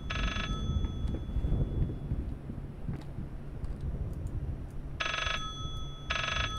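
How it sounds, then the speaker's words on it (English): A telephone rings inside the horror video game Layers of Fear, with a short burst of ringing at the start and two more near the end, separated by a low, rumbling ambient background. "I don't see a phone, I just hear a phone,"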